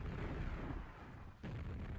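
Rocket explosion in a QuakeWorld duel, a dull low boom rolling in and fading over a rumbling background, followed by a sharp hit and further rumble.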